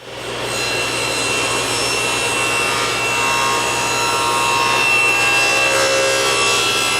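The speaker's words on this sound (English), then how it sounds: "now I'm making the second 45-degree angle cut" Table saw cutting a 45-degree angle through wood, a loud steady whine and rasp held close for several seconds as the blade runs through the piece.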